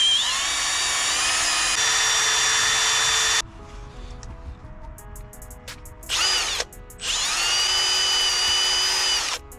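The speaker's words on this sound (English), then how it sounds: "We're gonna drill over here." A power drill whines loudly in long bursts while drilling a tweeter mounting spot inside a 2009 VW CC, pausing in the middle for quieter clicks and a short spin-up before running again.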